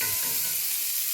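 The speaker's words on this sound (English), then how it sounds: "throw these three items into the skillet and cook them until the onions are translucent" Three items, onions among them, sizzle in a skillet on a low-carb dinner stove, a steady, close hiss of frying with no voices over it.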